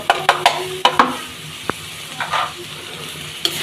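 Kalai greens stir-fried with ghee and crushed dried chili give a soft sizzle broken by several sharp spatula scrapes and clicks against the pan, close and fairly loud, with quieter frying in the pauses.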